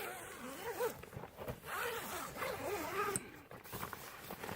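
A zipper on the door of a USMC two-man combat tent is drawn open in several quick rasping pulls, close and fairly quiet, with brief pauses between strokes and some rustling of fabric.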